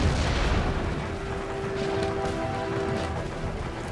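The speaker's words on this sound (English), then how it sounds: "Keep firing your cannons, men." Cannon and artillery fire on a battlefield in Empire Total War, a steady rumbling barrage of booms and crackling shots with a sustained tone running through the middle, continuous and dense with no speech.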